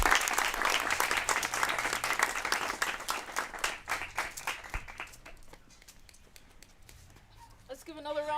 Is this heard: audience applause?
yes